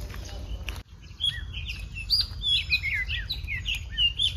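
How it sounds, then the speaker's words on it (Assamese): Many birds chirp and sing near a lake at a resort in Meghalaya, with quick overlapping tweets and trills throughout over a steady low background rumble, following a brief rustle at the start. "ইমান চৰাই আৱাজ একদম"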